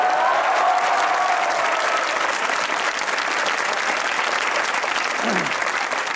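Studio audience clapping on a comedy talk show, a dense, even wash of applause from the crowd that holds steady throughout before easing slightly at the end.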